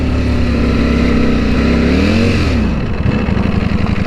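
A 2018 Ducati V4S motorcycle engine revs loudly up close while being ridden, pitch sweeping upward then dropping away before settling into a steady, throaty drone.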